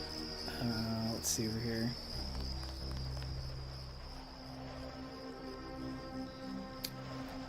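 Loud crickets chirp without pause in a sewer area of the video game Deus Ex, with a shrill steady drone running under game music and a short spoken remark.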